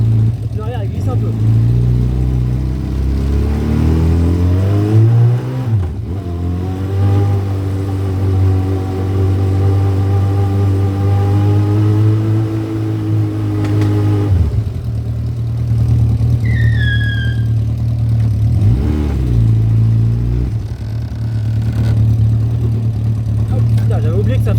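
Yamaha XJ600 motorcycle engine idling with a steady, loud, close hum, broken by several throttle blips whose pitch climbs and falls before settling back to idle.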